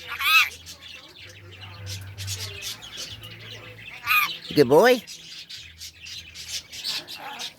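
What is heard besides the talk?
pet bird chirping and squawking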